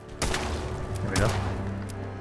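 Bursts of gunfire in Fallout 4 land close and loud, with a couple of sharp reports and a low rumbling tail, and no voice over them.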